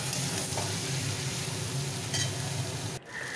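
Tomato, potato and spices frying together in a pan for spicy vegetarian aloo dum, a steady close sizzle with faint stirring scrapes, cut short by a brief drop near the end.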